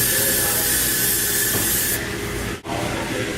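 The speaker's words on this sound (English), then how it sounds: "you're going to spray the top with some vegetable oil spray" Vegetable oil spray from a can hisses onto the top of bread dough in a bowl: a close, steady spray lasting a few seconds, broken by a brief pause before a final short burst.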